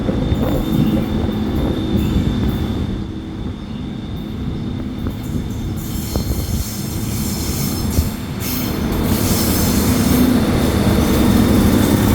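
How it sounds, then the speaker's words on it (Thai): Rapid train 171 and special express 40 pass each other on double track at the Ban Pong curve in Thailand, close by, wheels clattering and squealing on the rails, loud and continuous, swelling again near the end. "ก็จะได้เห็นรถไฟวิ่งสวนกันอย่างนี้บ่อยๆอ่ะ"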